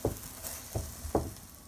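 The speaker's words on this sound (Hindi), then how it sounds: "ग्रीन चिलीज डाले थे उनको थोड़ा सोते कर लेंगे।" Green chilies and vegetables sautéing in leftover gravy masala, a soft sizzle with three dull stirring knocks spaced evenly, close by.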